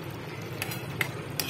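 Paneer sabzi seasoned with salt and kasuri methi is stirred in a pan with soft, steady scraping and a faint sizzle, broken by a few sharp clinks of the spoon against the metal.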